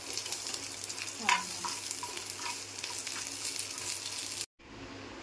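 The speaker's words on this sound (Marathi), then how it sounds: "आणि तेल टाकणार आणि इथेच परतून घेणार. हा, आणि 2 मिनिट मग सगळे परतून घेणार एकत्र." Crab curry ingredients sauté in oil in a pan, a steady close sizzle with scraping stirs, a brief clatter near the start and a short drop to silence near the end.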